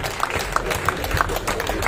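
Applause at a Tamil movie audio launch as a guest is welcomed onto the stage, a steady crowd clapping throughout under amplified music.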